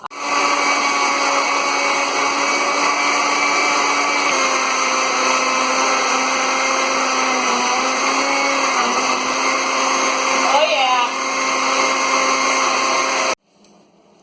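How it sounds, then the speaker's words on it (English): A kitchen blender grinds frozen strawberries, half a frozen banana and five ice cubes with a loud, steady motor whine and shifting pitch as the load churns, running continuously before cutting off abruptly near the end. "Shove them in there, turn that blender on, see what happens."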